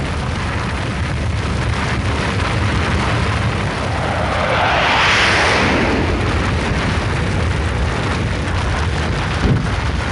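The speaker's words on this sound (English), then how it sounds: "Main engine start and liftoff." Rocket liftoff at Kennedy Space Center in Florida, main engines igniting: a loud, continuous broadband roar that holds for the whole stretch and swells toward the middle, with no voices.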